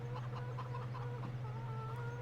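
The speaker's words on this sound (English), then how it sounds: "We need some more chickens." Chickens clucking in the farming game Farming Simulator 17, several short clucks scattered over a steady low mechanical hum, with no voices.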